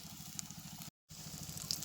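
Potato and soybean cutlets fry in oil with a soft, steady sizzle and light crackle, briefly cut to silence midway before resuming.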